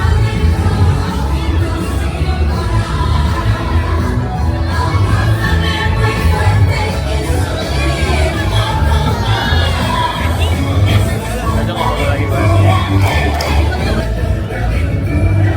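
A dense crowd at PortAventura theme park fills the air with loud, continuous babble, shouts and occasional cheers from all around, close and enveloping.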